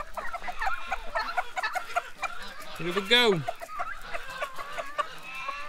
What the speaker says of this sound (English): he's crowing for cupcakes